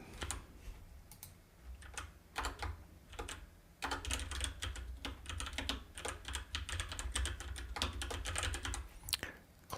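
Close, quiet typing on a computer keyboard during an Oracle Integration Cloud tutorial, with irregular bursts of key clicks and short pauses between strokes, no talking.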